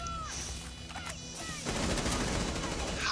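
Rapid gunfire in Rainbow Six Siege erupts as a dense, crackling burst after a few quieter game sounds, continuing steadily loud to the end.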